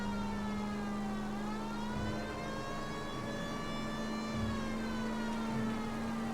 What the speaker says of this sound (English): I forgot that my siren would make them do that.